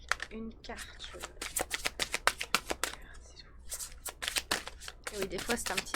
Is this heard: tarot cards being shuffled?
yes